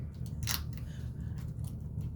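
Scissors snipping a strip of duct tape to make a zipper bag, one sharp close cut over steady low hum, with no talking.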